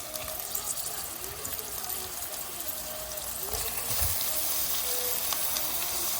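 Mutton frying in oil with onions browned to a deep color, heard as a steady close sizzle with bubbling and a few low thumps and scrapes partway through.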